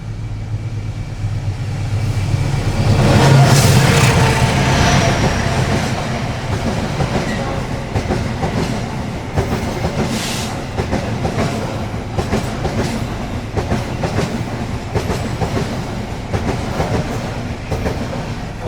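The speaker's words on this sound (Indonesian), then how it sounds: "kereta api Papandayan baru saja melintas stasiun Maswati dengan rangkaian eksekutif dan premium stainless generasi pertama" The Papandayan passenger train, with first-generation stainless executive and premium cars, passes through Maswati station: a loud rumbling approach, then a long run of rhythmic wheel clatter over rail joints fading steadily.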